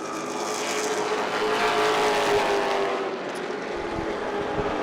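Late model race cars roar around Irwindale Speedway, a loud, sustained engine drone that swells and fades as cars pass close by, continuous from start to finish.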